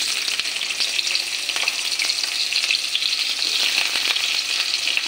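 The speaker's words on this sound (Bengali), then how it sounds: "বেগুনটা আগে ভাজা করে নেব। তেলটা গরম হয়ে গেছে।" Eggplant fries in hot oil with a loud, dense, continuous sizzle and crackle, broken by a few soft stirring clicks and no voices.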